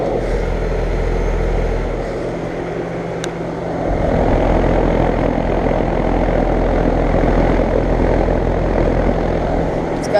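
A 2012 American Standard 4-ton central air conditioner with a Gen-Tech fan motor running outdoors: a loud, steady fan whoosh over a low motor hum that swells slightly partway through and holds, with no talking.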